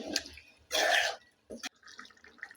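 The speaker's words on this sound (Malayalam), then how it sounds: "എന്തായാലും കുറച്ച് ചൂട് വെള്ളവും കൂടെ ചേർത്തിട്ട് ഒന്നുകൂടെ ഒന്ന് അടച്ചു വെച്ച് വയ്ക്കാം" Hot water is poured into a simmering potato chicken curry, giving short splashing and dripping bursts with quiet gaps between them, faint and close by.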